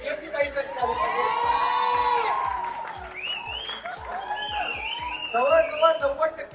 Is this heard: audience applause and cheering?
yes